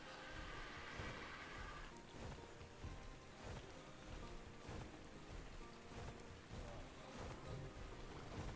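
Steady rain falls in the survival game ARK: Survival Evolved, a continuous wash of drops with occasional faint rumbles, moderately quiet and with no talking over it.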